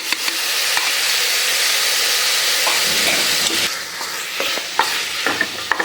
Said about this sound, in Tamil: வெங்காய தக்காளி நல்லா வதங்கிட்டோம்